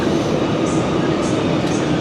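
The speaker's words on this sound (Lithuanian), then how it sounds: "Štai ir Varšavos centrinė stotis." Train at Warsaw Central railway station, a steady loud rumble of carriages filling the platform, with a few faint high squeals over the continuous low roar.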